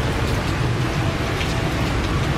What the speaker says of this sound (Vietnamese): Trời bỗng nhiên đổ mưa.